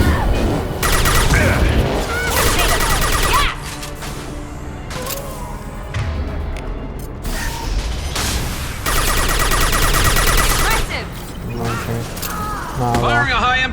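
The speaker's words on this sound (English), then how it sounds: "Firing a high impact shot." Heavy weapon fire from the Mass Effect 2 video game: loud, dense bursts of booming, crashing shots in repeated blocks, mixed with mechanical clanks and game sound effects.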